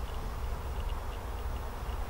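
Honey bees in an open hive during requeening, a steady low buzzing hum throughout with no breaks, close and moderately loud, with no voices.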